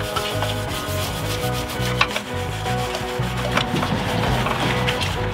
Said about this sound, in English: Just give it a scrub, get the big chunks broken up.